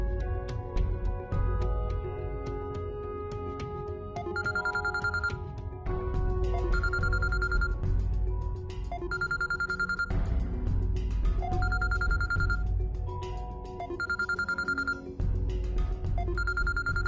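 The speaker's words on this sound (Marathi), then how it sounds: "अरे यार, फोन का नहीं उचलत है फालतू?" A telephone rings in a Marathi TV serial scene, its bright electronic ring repeating in regular bursts for the whole stretch over a dense, low musical background.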